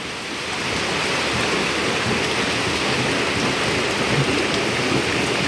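Heavy rain pours steadily, a dense, continuous roar of drops drumming on surfaces with no voices or breaks.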